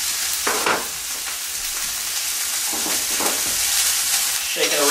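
Steak searing in a pan of hot oil for a cognac steak dinner, a steady loud sizzle with crackling bursts and a few scrapes as the pan is shaken, no talking.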